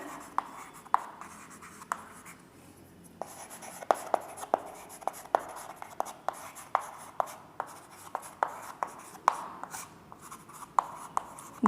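Chalk or marker taps and scratches on a board during a Class 12 chemistry lesson on solid-state unit cells, with sharp, irregular strokes and taps across a quiet classroom background, no talk.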